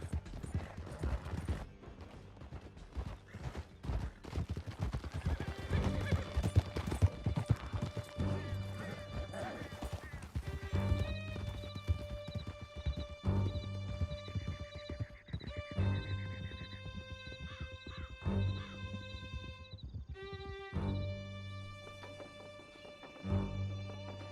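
Horses gallop with steady clip-clop hoofbeats across a canyon in the video game Red Dead Redemption 2, loud and continuous under a dense game score, with occasional whinnies and shouted voices.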